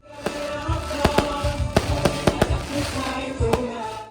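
A Christmas fireworks display in Pampanga, popping and cracking in a dense, irregular series of sharp bangs over a steady rumbling background, loud and fairly close.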